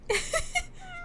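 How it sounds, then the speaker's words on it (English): A cat meows a few times, close and fairly loud, the calls rising and falling across about a second with a faint tonal tail at the end. "There's a cat."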